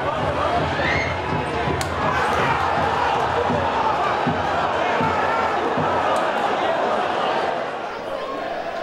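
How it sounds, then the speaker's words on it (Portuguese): A dense football crowd roars and cheers in a stadium after Paulista's opening goal against XV de Piracicaba, a broad, steady wall of voices with a few thuds and shouts, loud and sustained throughout before easing slightly at the end. "A torcida comemorou"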